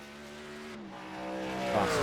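NASCAR truck engine in a sim racing game accelerating hard out of a tight hairpin, a smooth rising engine whine climbing steadily in pitch and loudness, fairly quiet and with no talk.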